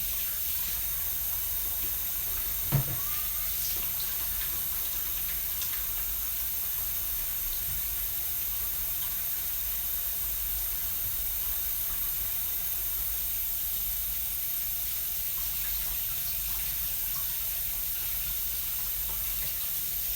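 A kitchen tap runs in a steady, even hiss as hands are washed under it after preparing a meatloaf, with one brief knock near the start and no talking.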